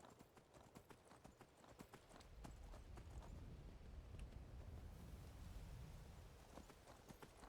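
Shadowmere, a horse in the video game Skyrim, trots with rhythmic clip-clopping hoofbeats over a wind-like rush, heard alone and fairly faint.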